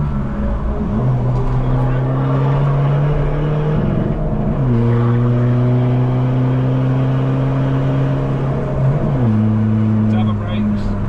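A Skoda Fabia VRS on the Nürburgring circuit pulls loud and close, its engine droning steadily and stepping through gear changes with sharp drops and climbs in pitch over about eleven seconds.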